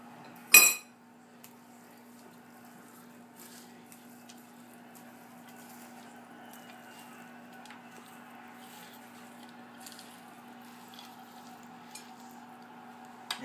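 A utensil clinks once against a bowl while ancient Roman coleslaw and seasoning are mixed, then faint, quiet stirring and scraping continue with small taps.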